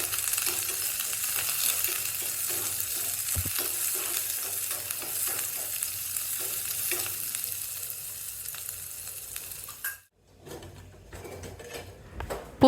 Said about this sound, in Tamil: அதையும் இப்போ எண்ணெயில் சேர்த்து வதக்கலாம்